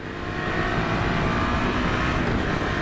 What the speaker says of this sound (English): It's a big ass tractor.